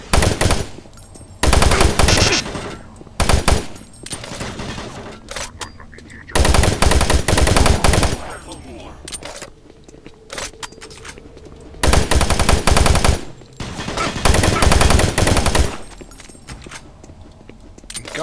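Rapid automatic weapon fire from the video game Doom 3 comes in several long, loud bursts, with quieter gaps between them.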